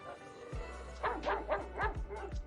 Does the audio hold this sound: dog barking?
yes